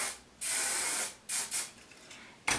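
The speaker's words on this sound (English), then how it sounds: "I'm going to spray it again with hairspray" Hairspray hisses from an aerosol can in several bursts: one long spray, two shorter puffs, then a final spray starting at the end.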